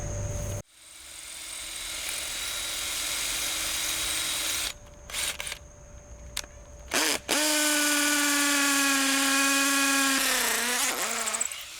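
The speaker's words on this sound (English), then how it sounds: "Concrete bit, drill with the hammer feature, and I might drill in the beginning because I don't want to crack this lid." A hammer drill fitted with a concrete bit whines steadily into a concrete septic tank lid, stops and restarts in short bursts, then runs loud and close with a strained, pitch-shifting motor before slowing down.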